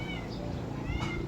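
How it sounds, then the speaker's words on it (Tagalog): A cat on a rooftop gives a short faint meow, heard briefly at a distance with no talk. "Naririnig niya yung ano, isang pusa."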